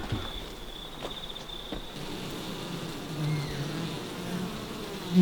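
Guard bees buzz at a beehive entrance in winter, a faint steady insect drone close by over a low outdoor hum, with no talking.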